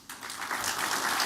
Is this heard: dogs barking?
no